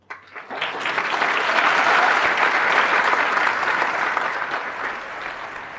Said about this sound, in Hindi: आपने तालियां बजाई